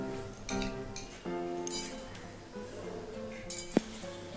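A spoon clinks against a pan while poppy seed and mustard paste are stirred into sukto, a vegetable dish, giving faint, scattered metallic taps with a few sharper knocks.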